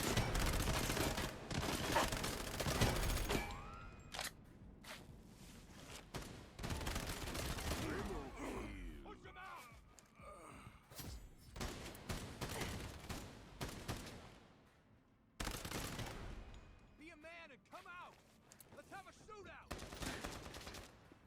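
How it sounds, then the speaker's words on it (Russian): Gunfire from bots battling each other on a factory map in the video game Lost Light, with bursts of automatic fire and scattered shots, some loud and near, others distant, separated by quieter gaps. "боты дерутся с ботами, стрельба на карте"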